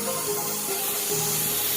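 Spray gun laying a second coat of metallic green paint, a steady continuous hiss of atomised spray heard close and alone throughout.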